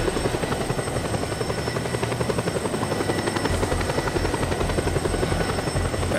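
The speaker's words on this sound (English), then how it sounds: "I need another helicopter." A helicopter in the video game Just Cause 2 roars steadily and loudly throughout, with a continuous chopping rotor drone and an engine whine that stay constant and close, with no talking.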